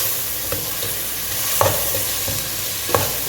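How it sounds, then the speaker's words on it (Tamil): Curry leaves frying in hot oil give a steady crackling sizzle, with a few sharper pops and spoon scrapes breaking through at intervals. "கருவேப்பிலை எண்ணெயிலே இதாகிடும்."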